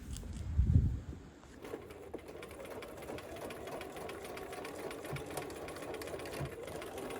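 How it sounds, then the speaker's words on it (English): A sewing machine stitches the inner leg seam of a quilted romper, running as a steady, continuous mechanical whir close up after a brief louder thump at the start. "So we're just sewing along the inner seam"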